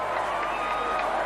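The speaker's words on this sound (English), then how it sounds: "Listen to this crowd." A wrestling arena crowd at the 1997 Owen Hart versus Mankind match lets out a loud, continuous roar of cheering and shouting that holds steady throughout.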